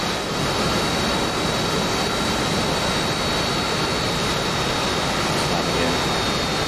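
Video game F-35B jet taking off from a ship deck, a loud steady roar of jet engine noise that stays constant and dense throughout, with no clear change in pitch.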